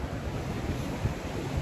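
A river rushes steadily through Kumrat Valley in Swat, a continuous broad wash of flowing water mixed with wind noise and no pauses across the short stretch.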